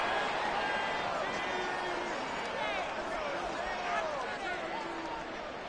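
A crowd at Arrowhead Stadium roars in an EA Sports football video game, a loud continuous wash of cheering with a commentator's voice over it.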